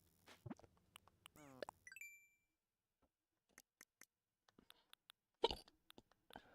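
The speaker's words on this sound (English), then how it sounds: "Hiccups." Several small, sharp hiccups spaced apart in a quiet room, with a few faint ticks and clicks between them and one louder hiccup near the end.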